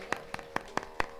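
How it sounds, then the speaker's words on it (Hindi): A crowd claps at a religious Bhagwat katha gathering, a quick run of five sharp, evenly spaced claps that sound close and distinct, with no voices over them. "एक बार ताली बजा दो, ताली ताली ताली"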